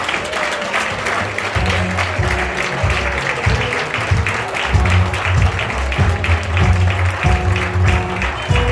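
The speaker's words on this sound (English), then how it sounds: "Let's give a big round of applause to our brother Mbatia" Sustained applause from an audience, steady clapping over a low musical hum throughout.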